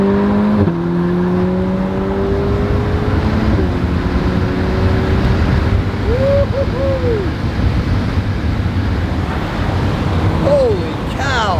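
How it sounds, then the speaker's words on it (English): Ferrari Portofino V8 engine under way, a loud steady droning roar with shifting tone and gear changes, heard from inside the cabin with road and wind rush, and a voice briefly audible. "for a small V8 engine, it's pretty good."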